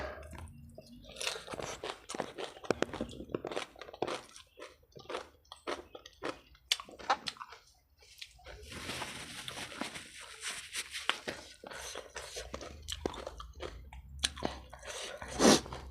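Spicy papaya salad with rice noodles, pickled clams and field crab is chewed close up: steady wet crunching and squishy bites in a continuous rhythm, with no talking.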